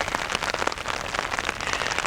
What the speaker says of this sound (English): then the rains came.